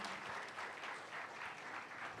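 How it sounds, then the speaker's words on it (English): Audience at a music academy concert applauds its young performers, a faint, even wash of clapping from a distant crowd lasting a couple of seconds. "A very big round of applause to all the budding artists of DSMA"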